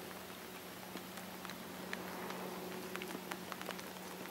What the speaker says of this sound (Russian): Мне кажется, скоро дождь закончится.